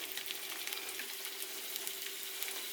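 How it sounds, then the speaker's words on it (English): Wild mushroom crab cakes sizzle in a frying pan with a steady crackling hiss and scattered pops, close and quiet, with no one talking. "Listen to that sizzle."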